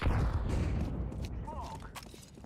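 A flashbang grenade goes off in a Counter-Strike 2 match, a dull burst followed by a lingering muffled ringing wash with scattered thumps and faint movement behind it.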